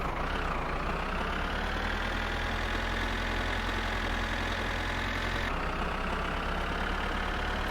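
A tractor engine runs steadily while driving in the game My Summer Car, a continuous loud mechanical drone with a slight pitch change midway, no talk.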